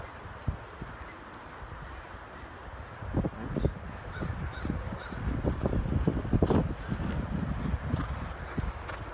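Hooves of a racehorse galloping on a track at Golden Gate Fields thud in an irregular, growing rhythm amid open outdoor ambience, with a short spoken word near the start.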